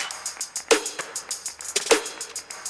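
Future pop drop groove with a tambourine loop and hi-hats panned to the sides, playing alone as bright, evenly spaced rhythmic hits with two stronger accents.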